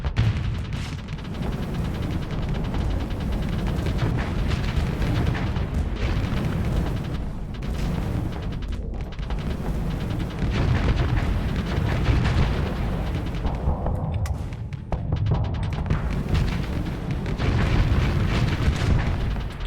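Heavy missile explosions rumble and boom almost nonstop in the Starsector space combat game, a dense, loud low-end barrage with overlapping blasts and no quiet gaps.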